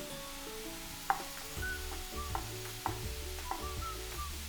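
Mushrooms sizzle quietly in a pan for a quiche Lorraine, a soft frying hiss with occasional small pops and ticks, no talking.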